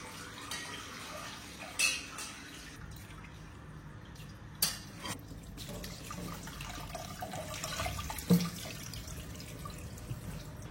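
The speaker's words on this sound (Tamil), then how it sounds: "நீங்க எதுல வடிகட்டுறீங்களோ அதுல வடிகட்டிட்டு ஒரு வாட்டி பச்சை தண்ணி ஊற்றி" Cold water from a tap runs softly and splashes into a sink while cooked Maggi noodles are rinsed, with a few sharper clatters and drips breaking through the steady flow.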